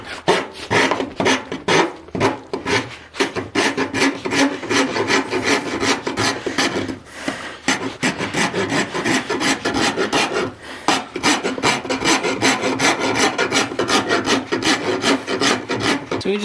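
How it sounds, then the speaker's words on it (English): Wood rasp shaping a wooden axe handle, loud repeated rough scraping strokes in a steady back-and-forth rhythm, close up, with no talk. "when I take the rasp to it and do the final shaping, that will all go away"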